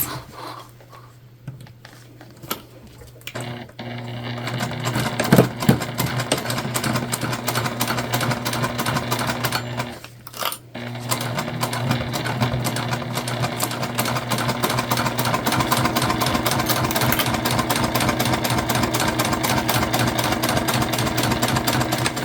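A sewing machine runs in long steady bursts of dense rapid stitching, sewing down both sides and across the base of a fabric candy bag, with a short pause near the start and another around the middle.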